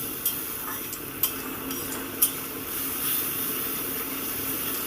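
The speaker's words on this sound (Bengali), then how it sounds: "সামান্য জল দিয়ে মশলাটাকে সুন্দর করে কষিয়ে নেব" Cumin, chilli and turmeric spice paste frying with a little water in a pan, a low steady sizzle and hiss with a few sharp spoon scrapes and taps against the pan, close, no voices.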